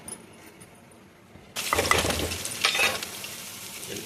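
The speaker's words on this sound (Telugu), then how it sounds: "చూడండి, పోపు వేసుకుంటున్నారు." Hot tempering is poured into a peanut chutney and bursts into a loud, sudden sizzle that crackles for a couple of seconds, then settles into a steady frying hiss. Faint kitchen sounds come before it.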